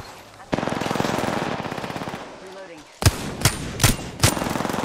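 Automatic weapon fire in the Apex Legends video game, a rapid loud burst followed by several heavier separate shots, close and punchy.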